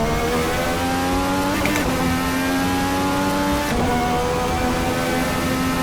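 A 2020 IndyCar in the Assetto Corsa racing game screams at high revs, its engine note climbing steadily with two brief gear-shift dips, loud and continuous with no talk.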